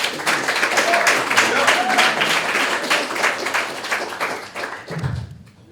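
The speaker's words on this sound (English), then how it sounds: "So please give her a round of applause." An audience at a Christianity and national security conference applauds a speaker, a dense sustained wash of clapping that fades near the end as a voice begins.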